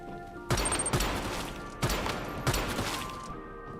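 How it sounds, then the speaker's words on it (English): Several sharp gunshot bursts in the video game Once Human crack out at irregular intervals, loud and close, with a crashing, echoing tail between shots and no talking. "They heard all those gunshots and just didn't move"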